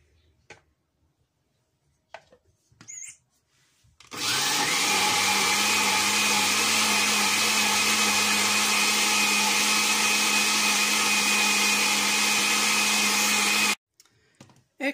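Electric mixer beating eight eggs for old-fashioned pumpkin pastries, a loud steady whirring drone that starts abruptly after a few quiet kitchen clatters and cuts off near the end.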